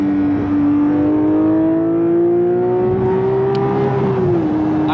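A Porsche 992 GT3 engine revs steadily while driving, its smooth tone rising gradually then dropping slightly near the end, loud and continuous inside the car with no talking.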